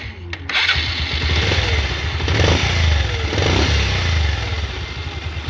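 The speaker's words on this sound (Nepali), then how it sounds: "हाम्रो बाइकको साउन्ड एकदमै राम्रो भएको छ" A motorcycle engine runs steadily at idle after its cam chain tensioner was replaced, producing a close, loud, even chugging rumble with slight swells in revs and a brief click at the start.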